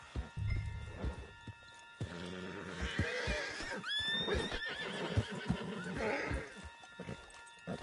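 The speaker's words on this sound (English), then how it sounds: "Put Strauss on the back of John's horse" A horse in Red Dead Redemption 2 whinnies and snorts amid hoof clops, with a shrill neigh in the middle, fairly close.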